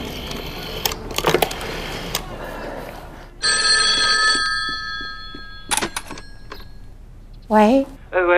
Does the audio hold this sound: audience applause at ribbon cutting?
no